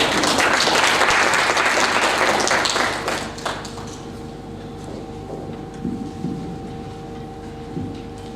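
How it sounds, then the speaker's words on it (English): An audience gives a round of applause for a youth sponsor stepping up for closing remarks, a thick burst of many hands clapping for about three seconds before dying away into a quiet room hum with faint shuffles. "Please could we encourage him with a round of applause"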